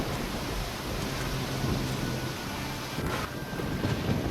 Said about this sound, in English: Slightly more reasonable storm now.